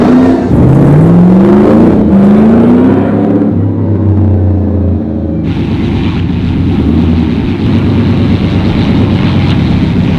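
The Ice Charger, a Speedkore-built performance Dodge Charger, revs loud and close, its engine climbing and falling in pitch before settling into a deep, steady rumbling idle, with no voices.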